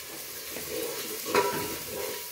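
Masala spice paste fries and is stirred in a pan for a Sangola-style spicy mutton dish, giving a steady close sizzle with soft scraping stirs and one brief louder clink of the utensil partway through.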